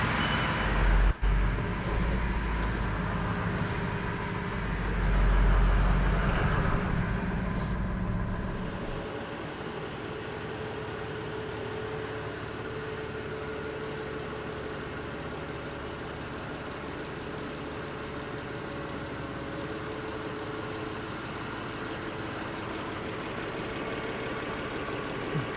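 A truck engine idles and rumbles while pulling a trailer out, louder and heavier for the first several seconds with low thumps, then settling into a steady, quieter drone for the rest.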